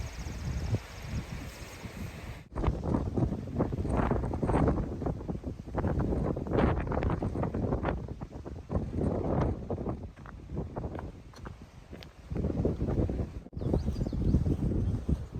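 Strong wind buffets the microphone on an exposed mountain spot along a hiking trail, a steady loud roar with gusty surges and brief dropouts, no talking.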